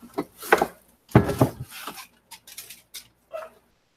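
A dog gives a few short barks and yips near at hand, spaced irregularly with quiet gaps between them.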